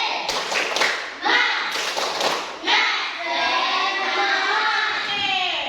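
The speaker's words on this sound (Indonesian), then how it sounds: "Kita dulu tepuk semangat." Classroom group doing a rhythmic clapping cheer, a few patterned bursts of claps and taps early on, then children's voices chanting together loudly in the room for the rest.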